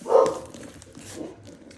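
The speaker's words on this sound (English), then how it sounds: "My dog. That's Merle. He's just saying hello." A pet dog named Merle barks a few times in a greeting, the sharpest bark near the start, followed by softer yips and whimpers, close by and alone without talk.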